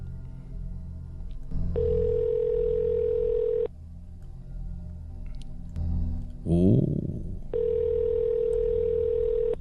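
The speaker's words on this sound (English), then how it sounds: "I guess it's just going to keep ringing till he picks up" Skype call ringing tone on a live internet show, two long steady electronic ring bursts separated by a pause, fairly loud, with a brief burst of noise in the gap and a single short spoken word.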